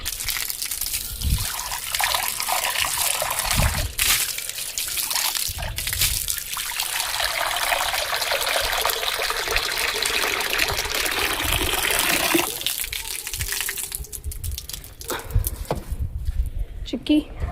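Water runs steadily from taps on a rooftop, a continuous trickling hiss that carries through the whole stretch while voices talk over it.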